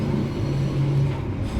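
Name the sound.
Sribilah Utama train passing Sriwijaya Utama train at station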